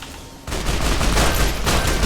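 A rifle fires in the video game Fallout: New Vegas, a sudden loud, dense burst of rapid gunshots starting after a short quiet lead-in and continuing steadily to the end.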